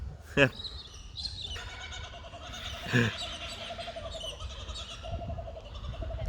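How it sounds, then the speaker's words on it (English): Kookaburras call from the surrounding bush in two short, raucous bursts, one near the start and one around the middle, over a steady background of quieter birdsong. "We've now got the kookaburras arguing."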